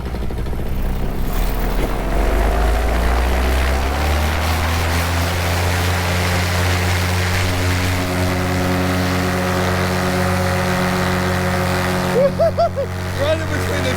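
A paramotor engine runs loud and close during takeoff from a parking lot. Its pitch climbs through the first few seconds and then holds a steady buzzing drone, while a voice talks briefly near the end.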